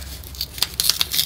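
A paper letter envelope is torn open carefully in several short rips and crinkles, close and fairly loud, with small pauses between tugs.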